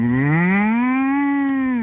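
A person imitates a cow mooing with a single long, loud, close low moo that rises slightly and holds steady before cutting off.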